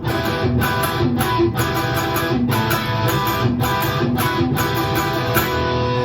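A sustained, full band-like passage with strummed chords repeating in steady phrases, with rhythmic accents and bright cymbal-like hits throughout, loud and continuous.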